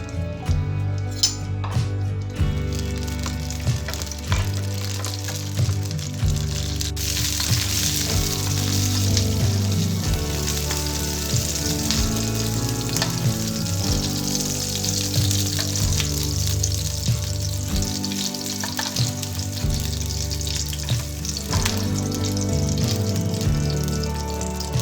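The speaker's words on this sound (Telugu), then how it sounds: "ఆయిల్ వేడిన తర్వాత పచ్చిమిరపకాయలను ఫ్రై చేసుకోవాలి." Green chilies frying in hot oil in a pan on a stove: a loud, dense, continuous sizzle with crackling and spitting throughout, close up and unbroken, and no talking.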